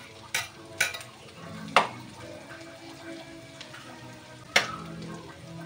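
Onion and garlic sautéing in a pan for pancit canton, a soft steady sizzle broken by four sharp utensil clanks against the pan as the mixture is stirred, no talking.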